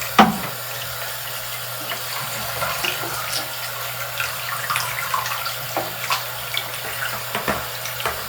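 Hot water runs steadily from a tap into a Bop It toy, making a close, even splashing hiss with small bubbling pops and a low hum beneath.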